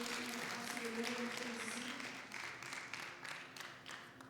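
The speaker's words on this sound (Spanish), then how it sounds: "Denle un fuerte aplauso al Señor" A church congregation at a Spanish-language service claps in sustained applause, the dense patter heard from a distance and slowly tapering off.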